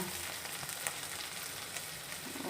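Garlic and onion fry in a pan for a drumstick broth, a faint, even crackling sizzle with a few small ticks of stirring. It is quiet and close, with no voices.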